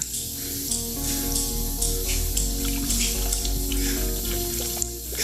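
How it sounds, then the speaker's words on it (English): Water pours steadily onto a Black Series space insulation panel, a continuous splashing, trickling wash with a faint hiss, close and fairly loud, with no voices. "Okay, so he's pouring water on it."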